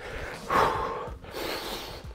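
Forceful breath exhaled during a punching-bag boxing workout: one heavy, breathy gust near the start, then a longer, softer exhale, both close and without talk.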